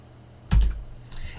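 Computer keyboard keys tapped while entering commands for a ROS robotics project, a short cluster of keystrokes with a soft thump, heard alone and fairly close.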